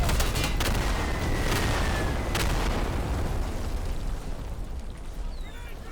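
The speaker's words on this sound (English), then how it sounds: "somebody's going crazy on the machine gun right now" Heavy battle noise from Insurgency Sandstorm, with a machine gun firing amid dense booming and cracking shots. The din is loud and continuous, with rapid sharp bursts early on, and it eases slightly toward the end.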